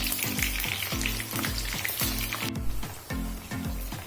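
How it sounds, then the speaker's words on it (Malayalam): Breadfruit slices fry in hot oil with a close, steady sizzle and crackle, joined by rhythmic stirring or scraping strokes against the pan, with no voices. "കട്ടി കുറച്ച് അരിഞ്ഞ് നമുക്ക് എണ്ണയിൽ നേരിട്ട് പൊരിച്ചെടുക്കാം"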